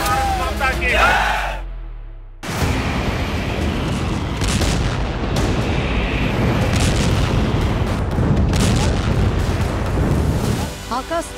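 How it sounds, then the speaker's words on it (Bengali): Missile explosions over cities: after a fading rumble and a short gap, a loud, dense roar of blasts and crackling debris continues for several seconds, with sharper impacts scattered through it. "মিসাইলের বিস্ফোরণে ধ্বংসস্তূপে পরিণত হচ্ছে শহরগুলো।"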